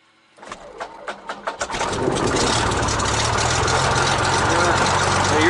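A small propeller airplane engine cranks with a quick series of chugging pulses. It then catches and settles into a loud, steady idle that continues without a break.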